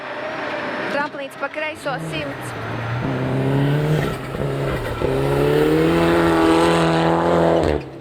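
A rally car on the Big White Winter Rally stages in snowy conditions, engine revving and shifting through gears as it races past, loud and close, with a commentator talking over it.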